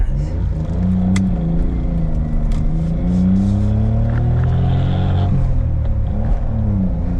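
A Suzuki Cappuccino accelerates, heard from inside the small car: a loud, close engine drone rising in pitch through the revs, easing off, then climbing again, with steady road rumble underneath.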